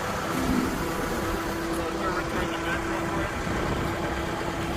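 A 2021 Caterpillar 910 wheel loader's engine runs with a steady, low mid-pitched drone and a faint tonal hum. It carries on evenly throughout, and faint voices are present in the background.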